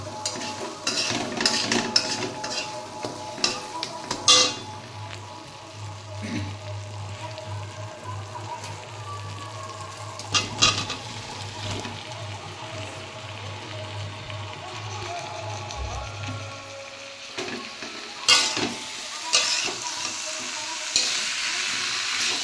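Jackfruit curry masala sizzles in hot oil while being stirred, with a steady fry hiss, intermittent scrapes and clanks of a utensil against the pan, and a low hum underneath.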